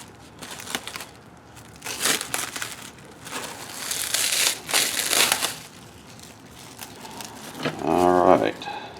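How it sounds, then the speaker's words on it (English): An old plastic gift card scraping finish off a Marlin rifle stock, with rough scratching strokes in several bursts, close up, and a voice talking between them. "I'm going to use an old gift card to scrape that finish off of there."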